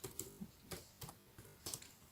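Keys on a computer keyboard tapped in a few sparse, quiet clusters while code is entered in a Java programming lesson, soft clicks spaced irregularly with no talking.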